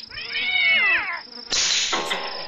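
Two drawn-out cat meows from The Visitor video game sound close and loud, the first rising then falling, the second sharper after a short pause.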